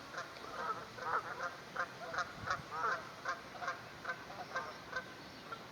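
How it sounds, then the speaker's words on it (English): Canada geese honk repeatedly in an outdoor coastal setting, giving a steady series of moderately distant calls over a soft background hiss. "There's some Canada geese."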